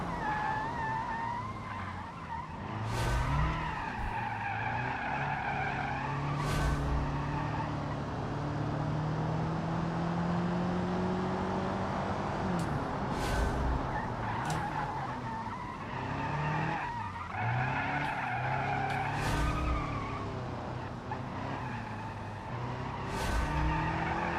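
Car tires skid and squeal under hard braking in the driving game BeamNG, with long screeching slides over a steady engine roar. The squeal rises and falls repeatedly across the run, loud and close, with no talking.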